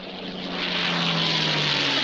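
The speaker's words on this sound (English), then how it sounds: "the judges have sent a plane up." Propeller airplane flying in a cartoon scene, a loud steady droning engine with a low hum that swells slightly, alone without talk.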